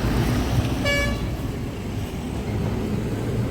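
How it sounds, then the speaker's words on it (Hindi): Road traffic on a busy street with a car horn giving one clear toot about a second in, over steady engine and roadway rumble. "रोड भी इशू है फुल ट्रैफिक है"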